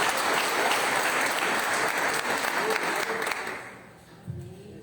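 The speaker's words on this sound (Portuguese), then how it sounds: "Você pode aplaudir o Senhor mais uma vez?" Congregation at a Baptist church service applauding steadily for several seconds, a dense, close, sustained clatter of many hands that thins out near the end as a voice begins to speak.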